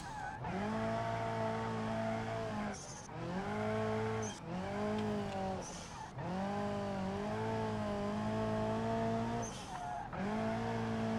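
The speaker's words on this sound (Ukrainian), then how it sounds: "Просто нажимаєш ручник і можна йти в занос." A car drifting with the handbrake in a racing video game, its engine note rising and falling through repeated revs and shifts over a steady skid, loud and continuous with no talking.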